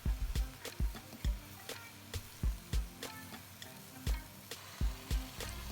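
Vegetables fry in butter with garlic, shallot and onion, a soft close sizzle punctuated by a steady run of sharp scraping and tapping stirs against the pan.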